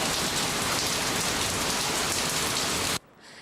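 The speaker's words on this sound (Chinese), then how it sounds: "狂风大雨下个不停" Heavy storm rain pours down in Kaohsiung, Taiwan, as a loud, dense, unbroken roar that cuts off abruptly near the end.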